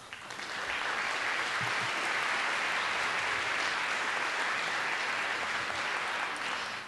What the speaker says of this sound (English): If you'll stand up and just let us applaud you.